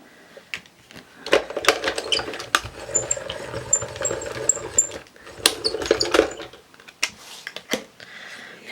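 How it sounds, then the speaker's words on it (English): A Gemini mini die cutting machine presses small dies through paper, giving irregular clicks, clacks and soft mechanical rattles in uneven bursts, close and fairly quiet. "Let's bring in my mini Gemini die cutting machine, because this is going to be perfect for these small dies."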